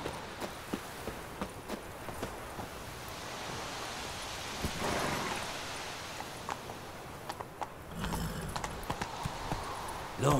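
Horse hooves clip-clop at a steady gallop in The Witcher 3, a regular rhythm of hoof strikes over a windy, rushing outdoor backdrop, with a louder thump of movement near the end.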